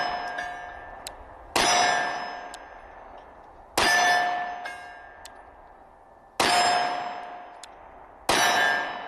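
Shots from a SIG Sauer P365 SAS pistol hit a steel target, and each lands as a loud, bright metallic clang that rings and slowly fades. There are four spaced impacts, and no one speaks.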